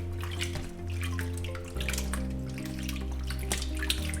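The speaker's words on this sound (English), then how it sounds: "And this is how we're going to wash our chicken foot." Water splashing and sloshing as chicken feet are rubbed and rinsed by hand, over a steady low hum, with occasional sharper splashes.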